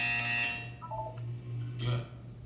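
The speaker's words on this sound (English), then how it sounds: "You will hear a buzzer." A buzzer in the Portal 2 video game gives a loud, sustained electronic tone that drops off, followed by shorter mechanical chirps and a second brief buzz over a low steady hum.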